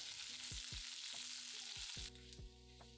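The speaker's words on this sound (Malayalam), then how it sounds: "15 ചെറിയുള്ളി 4 കീറിയത്, 1 ചെറിയ സവാള ചെറിയ സ്ലൈസായിട്ട് അരിഞ്ഞത്, കുറച്ച് കറിവേപ്പില, ഇത്രയിട്ട് നന്നായിട്ട് വഴറ്റുക." Shallots, sliced onion and curry leaves sauté in hot oil with a soft, steady sizzle, broken by a few light scraping clicks as a spoon stirs the pan.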